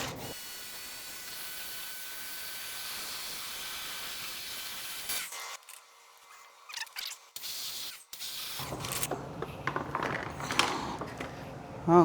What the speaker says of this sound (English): Go for a rinse here.